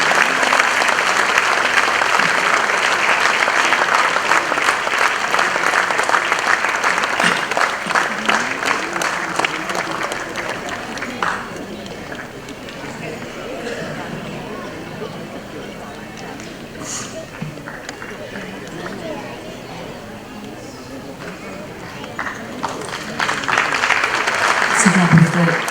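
An audience claps at a 75th Independence Day award ceremony honouring a village. Loud, dense applause fills the first half, eases into a thinner patter, then swells again near the end.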